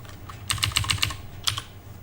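Two quick bursts of clicky keystrokes on a computer keyboard while coding, a run of about six taps followed by a pair, close and fairly quiet.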